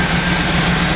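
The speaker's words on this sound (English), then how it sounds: "sounds like it's idling pretty good right there." A Chevrolet LT1 engine idles just after a fuel injector replacement, giving a loud, close, steady low rumble with an even mechanical hum and no break.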